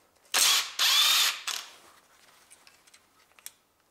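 A ratchet with a 10 mm socket works the camshaft bolts on a Honda Civic 1.8 engine, giving two loud close bursts of rapid clicking, a shorter third run, then faint scattered ticks and taps.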